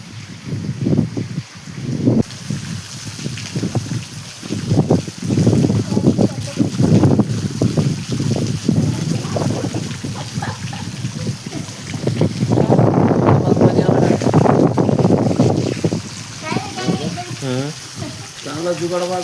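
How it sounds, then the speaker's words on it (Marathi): Rain falls steadily beneath a bridge over a flowing river, with a continuous wash of water and patter throughout and people talking over it now and then. "असा पाऊस चालू आहे."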